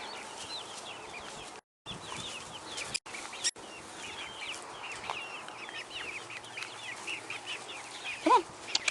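Half a dozen chickens cluck and squawk continuously while two Beauceron dogs chase them outdoors, with brief dropouts and a few sharper squawks near the end.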